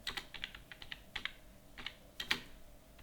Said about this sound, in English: Enter, type the address